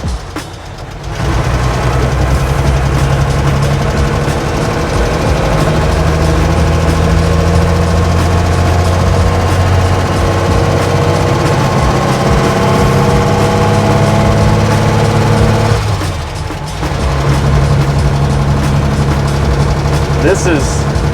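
A Mercedes Unimog truck engine drones loudly and steadily from inside the cab with a low rumbling vibration. It eases off briefly near the end and then resumes.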